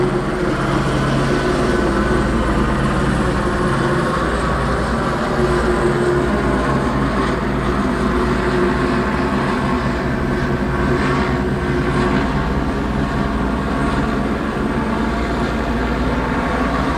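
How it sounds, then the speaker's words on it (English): Police helicopters circle overhead at night over Los Angeles, a steady low rotor and engine drone running loud and unbroken throughout, with no talk. "This is probably the FLIR copter right here. And then here's the night sun copter."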